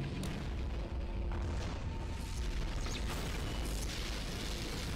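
Bombing explosions in a Skibidi Toilet animation: a dense, continuous barrage of loud booms and bursts with rumbling low end, sustained throughout without pauses.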